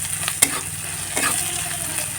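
Semolina upma mixture with salt and turmeric frying in a pan is stirred, a close continuous sizzle with a couple of sharp spatula knocks and scraping strokes.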